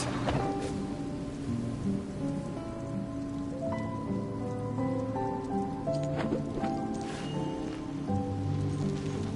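Rain falls steadily in the video game Genshin Impact, a dense hiss of drops with low rumbles of thunder, layered under soft melodic game music throughout.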